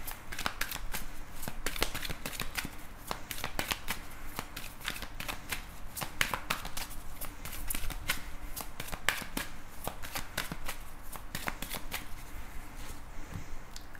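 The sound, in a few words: shuffling tarot cards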